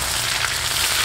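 Ginger slices frying in hot oil, a dense, loud, continuous sizzle close up with no voices.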